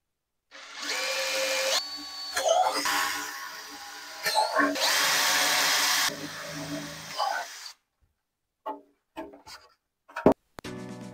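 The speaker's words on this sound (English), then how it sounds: "Now I need to drill this for our 1/4 inch mounting hardware." A power drill whirs in several bursts with grinding pitch changes as it bores holes in a NASCAR chassis part for 1/4-inch mounting hardware, followed by quiet and a few clanks and knocks.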